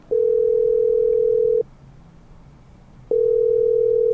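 A telephone line rings out on a call, giving two long, loud, steady tones separated by a pause of about one and a half seconds.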